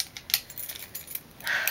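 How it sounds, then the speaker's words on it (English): A bunch of house, apartment and car keys on a Michael Kors keychain jangle inside a purse in several quick, light metallic clinks, close and fairly quiet, with a short rustle at the end. "I have my keys"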